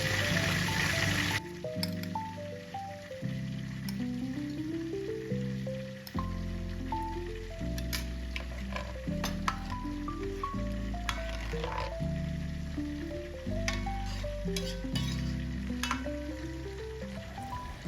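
Salted threadfin fish goes into a hot pan and is stirred, giving a steady sizzle with soft stirring scrapes under melodic background music.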